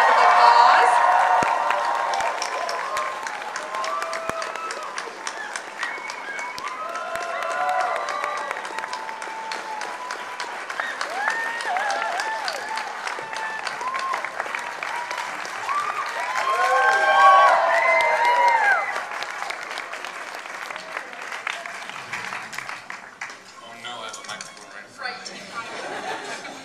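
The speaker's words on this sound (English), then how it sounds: "If we could get a huge round of applause." A convention crowd at a 2011 Fan Expo panel for the Lost Girl cast applauds and cheers as the cast walks on stage, with sustained clapping, scattered whoops and chatter that swell midway and slowly taper off.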